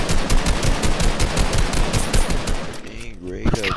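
Loud, rapid automatic gunfire fills a shooter video game, running steadily for about three seconds before a short pause and a brief resumption, with players talking over it.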